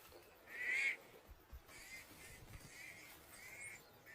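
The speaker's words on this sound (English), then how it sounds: "The pied crows sound the alarm again." Pied crows give alarm calls near a riverbank where lions hunt, a harsh nasal caw followed by several fainter repeated calls, distant and thin against quiet wild ambience.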